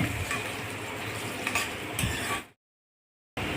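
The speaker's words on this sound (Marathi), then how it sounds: "आता आपला कांदा छान चॉकलेटी कलरवर भाजून झाला आहे." Onions sautéed to a deep brown for a cashew masala gravy sizzle steadily in a pan, with a few quick scraping stirs, before the sound cuts to silence and then briefly resumes.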